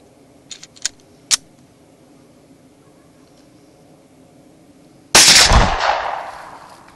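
A few small sharp pops from a Glock 19 pistol fired outdoors at a propane tank can, then after a quiet pause a sudden loud roaring burst that slowly fades away.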